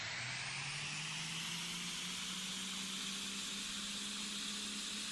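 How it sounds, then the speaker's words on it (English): Jet engine of a plane in the Immersive Vehicles Minecraft mod, a steady, loud broadband roar with a rising whine, running alone without pauses. "the plane does not fancy moving on the jets quite well with only one running"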